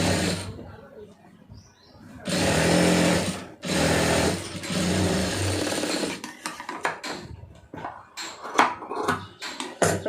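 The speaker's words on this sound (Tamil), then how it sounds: "இது அப்படியே கீழே வச்சு மடித்து ஒரு தையல் போட்டுருங்க" A sewing machine stitching down a folded cloth edge, running in a long steady whirring burst, pausing briefly, then resuming before breaking into quicker stop-start bursts of clattering needle action, close up.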